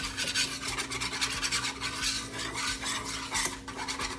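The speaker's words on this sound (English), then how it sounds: "You just keep whisking it." A whisk scrapes rhythmically and quickly around a pan of browning flour mixture, a rapid scratchy swishing close up over a faint low hum.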